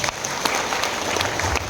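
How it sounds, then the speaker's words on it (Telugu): An audience at a pre-launch business event breaks into a burst of loud, dense applause, many hands clapping together steadily and close by, with a few sharper individual claps standing out. "ఐటీసీ గ్లోబల్ అండి, గట్టిగా క్లాప్స్ ఇద్దాం"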